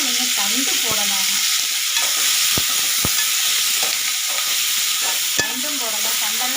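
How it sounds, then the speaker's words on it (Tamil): Coriander leaves and stems hitting hot oil in a pan for spicy chutney, a steady close sizzle and frying hiss with stirring scrapes and a few sharp utensil clicks throughout. "இப்போ நம்ம கொத்தமல்லி தழை போடலாம்."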